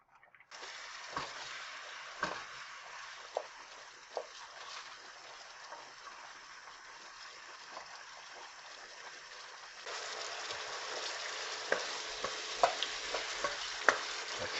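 Chicken piccata sauce cooking down in a pan until it thickens, giving a steady soft sizzle and bubbling that grows louder and busier partway through, with a few clicks of stirring and no talk.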